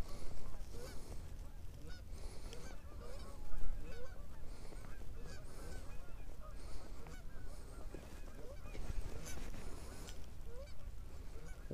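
Canada geese honking steadily in a dense flock during a waterfowl hunt, many overlapping calls near and far with no talk, one louder burst of honks standing out partway through.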